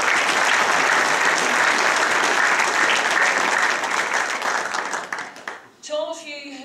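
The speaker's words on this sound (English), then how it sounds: "Could I ask you to give them all a round of applause" Hall of fame event audience in Larne giving sustained, loud applause that fades near the end as a voice begins speaking.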